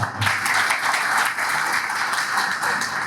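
A crowd at a village campaign gathering for Congress candidate Geniben Thakor breaks into steady, full applause, continuous clapping that holds at an even loudness for about three seconds.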